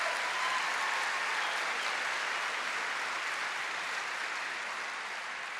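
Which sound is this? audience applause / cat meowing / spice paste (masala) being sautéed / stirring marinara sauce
audience applause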